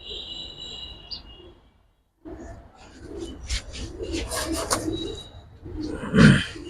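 Giribaj pigeons being handled give low throaty coos, clearest as one deep coo near the end, amid rustling and handling noise, with faint high insect-like chirps early on.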